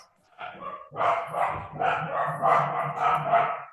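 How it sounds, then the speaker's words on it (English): A dog barks repeatedly in a room during a class session, a run of fairly close, loud yips and barks with no talk over them. "Somebody's doggy."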